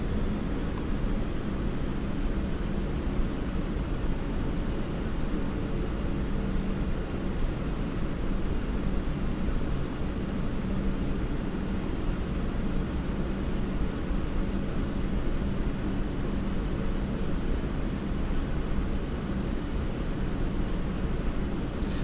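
Airbus jet engines in the FSX flight simulator spool up to a broad, steady roar that stays level and constant throughout, with no voices over it.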